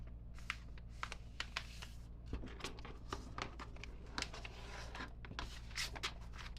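Paper being folded toward the middle with a folding tool, producing a steady run of soft crisp scrapes and taps that sound close and quiet.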